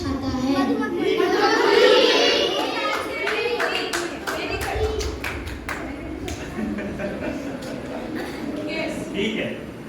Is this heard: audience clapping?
yes